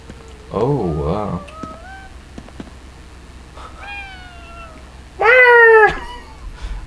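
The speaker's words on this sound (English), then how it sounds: "I love cats" A cat meows in the video game Ghostwire: Tokyo, giving about three clear, drawn-out meows: one wavering cry early, a softer one midway and a loud, high one near the end, over quiet game ambience.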